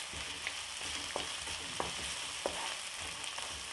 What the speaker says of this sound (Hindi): प्याज के साथ ही मैं यहाँ इसमें सब्जियाँ जो हैं उन्हें भी फ्राई करना शुरू करती हूँ